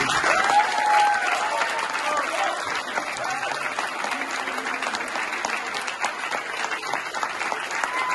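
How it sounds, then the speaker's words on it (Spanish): Enthusiastic applause fills the hall at a gala, many hands clapping in a dense, continuous wash that swells at first and then holds steady for several seconds. "un aplauso para ellos y gracias a todos."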